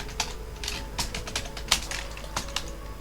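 Typing on a computer keyboard: a steady run of crisp, separate key clicks at an uneven rhythm, with a few sharper strokes, close and fairly quiet, no voices.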